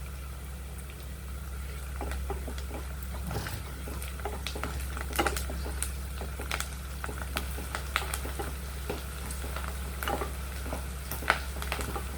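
Onions sautéing in a pan for mutton biryani and chicken gravy, a steady close sizzle and crackle running throughout with occasional small spatters and stirring clicks, no voices.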